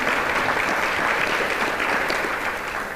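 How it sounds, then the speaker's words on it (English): An audience at a town's annual State of the Town address gives a sponsor representative a round of applause, a thick, steady roar of clapping from a large room that holds evenly and fades slightly at the end. "Give her a round of applause"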